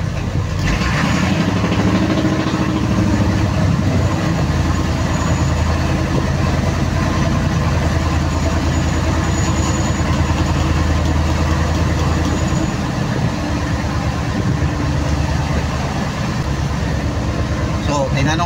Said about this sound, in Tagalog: So ito pangatlong service motor ito.